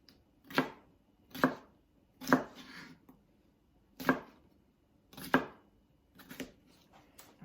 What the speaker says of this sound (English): I'm gonna cut the potato into fairly small chunks, maybe 3/8 of an inch